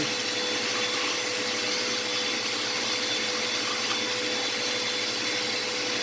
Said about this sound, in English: You go in here and try to vacuum the deposits up